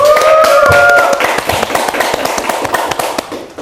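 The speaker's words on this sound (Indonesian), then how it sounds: "Tepuk tangan." A studio audience claps to welcome a guest onto a talk show, bursts of sharp hand claps rising loudly at first under a brief musical chime, then thinning and fading toward the end.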